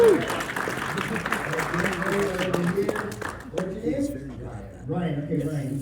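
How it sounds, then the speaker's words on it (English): A lecture audience bursts into applause, steady clapping from a crowd that fills the room and tapers off as a voice talks over it. "Give me a round of applause."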